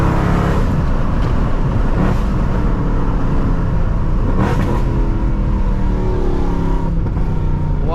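A Stage 3 Weistec supercharged Mercedes CLK 63 AMG Black Series roars loudly and close by, its engine revving hard and climbing through rising sweeps with brief shifts, a continuous aggressive note with no voices over it.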